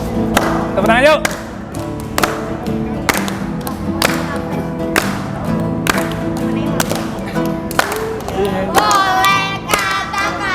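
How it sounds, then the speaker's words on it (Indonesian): Children at an orphanage Christmas celebration clap their hands in repeated sharp bursts, loud and close, with talk and singing voices mixed in. "Tepuk tangan yuk."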